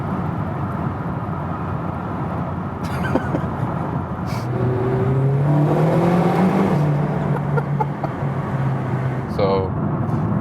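A McLaren GT with a 4-liter twin-turbo V8 cruises at speed on the Autobahn. Wind and road roar fill the cabin, and a rising and falling engine tone swells in the middle. Someone talks over it.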